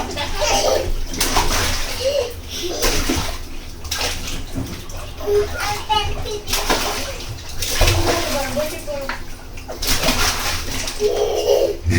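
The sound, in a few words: children splashing and diving in water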